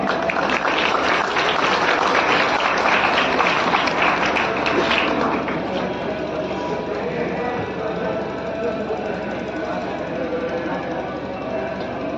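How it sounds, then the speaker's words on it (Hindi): Audience clapping at a 14 November community program of Azad Seva Sanstha in Sarai Akil, Kaushambi, honoring students. A dense, steady wash of many hands fills the first five seconds, then thins to a softer, continuing patter. "आप लोग तालियां बजाते रहे।"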